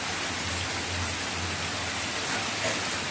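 Heavy rain pours down steadily and close by, a dense, even hiss of drops striking surfaces throughout with no pauses and no voices.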